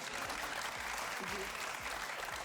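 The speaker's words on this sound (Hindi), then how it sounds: "तालियां बजाओ मेरे लिए" Audience applause at a Pakistani entertainment talk show, a steady dense wash of many hands clapping at moderate level, with a low voice murmuring faintly underneath.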